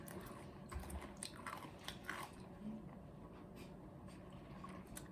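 Crunchy food stirred together with strawberry-flavoured sauce and eaten, with close, steady chewing and crunching bites repeating through the moment, fairly quiet with no talking.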